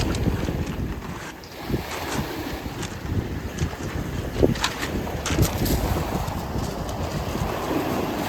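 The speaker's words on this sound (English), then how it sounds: "it's really windy, and obviously the sea is very noisy" Strong wind roaring across the microphone with noisy sea waves washing onto the shore beneath the white cliffs of Dover at St Margaret's Bay, a loud, continuous rush with surging surf bursts and no talking.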